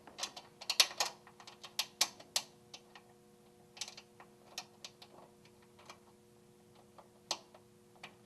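Small screws being fitted by hand onto the drive spool plate of a SkiErg1 during a drive spool replacement: close, sharp irregular clicks and ticks with brief pauses, no talking.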